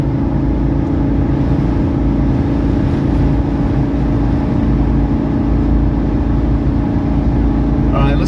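Steady engine drone and road rumble from a 1983 Mercedes 300CD coupe cruising at highway speed around 3,300 RPM, a constant low hum filling the cabin throughout with no break.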